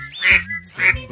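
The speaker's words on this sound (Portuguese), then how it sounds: "Isso mesmo, esse é o som de um pato." Two loud, nasal duck quacks, close by, spaced about half a second apart with no talking.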